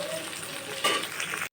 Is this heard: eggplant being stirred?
yes